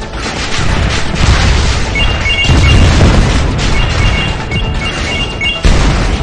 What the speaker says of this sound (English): Electric shock rocket.